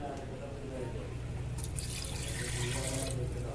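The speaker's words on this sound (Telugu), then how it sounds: "ఈ షెంబెడ్ నీళ్ళు పోస్తున్నా" Water pours steadily into a pot of mutton curry, a continuous close gushing sound that grows slightly brighter toward the end.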